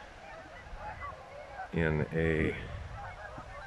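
A flock of geese honks loudly and close in a park-like setting among ducks, with two strong bursts of calls over outdoor ambience and a voice speaking briefly.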